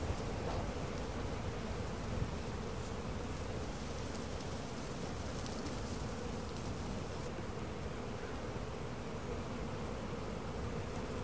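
Honey bees swarm and buzz around an open hive during a spring inspection, a dense, continuous drone that stays close and steady throughout, with no talking over it.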